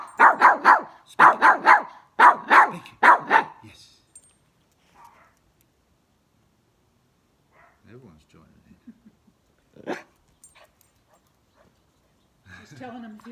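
A dog barks on command, about ten loud, sharp barks in quick bursts near the microphone, then quieter shuffling, jangling and brief speech follow.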